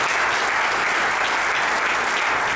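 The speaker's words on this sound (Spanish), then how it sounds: "denle un aplauso al Señor" A congregation at a Spanish-language church doctrinal symposium breaks into applause, a dense, continuous wash of many hands clapping at once, loud and steady throughout with no voices on top.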